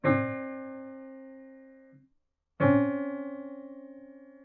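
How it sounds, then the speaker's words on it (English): Two sustained tones a major second (whole step) apart ring out one after another with a short gap between them, each a clean, decaying instrument note, slightly clashing pairs of pitches. "A whole step or a major second would sound like this."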